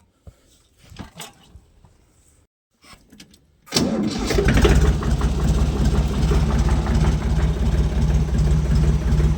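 A farm tractor's engine cranks after a few quiet clicks and knocks, then catches and settles into a loud, steady, low-pitched idle that continues to the end.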